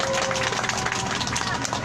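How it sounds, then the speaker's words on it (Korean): Crowd applauding a nuns' musical performance at an outdoor weekly protest rally, a loud, dense wash of clapping that stays steady from start to finish, with voices mixed into the noise. "다시 한번 수녀님들께 큰 박수 부탁드리겠습니다"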